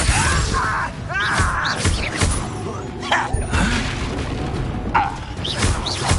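In Hogwarts Legacy, a Confringo blasting spell erupts in booming explosions and crashing impacts during a busy fight, with several blasts and thuds layered over game noise.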